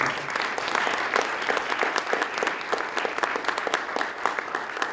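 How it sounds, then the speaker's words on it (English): Steady applause from a crowd at a police swearing-in ceremony, many hands clapping together at a sustained, even level with no pauses. "So let's give them a round of applause."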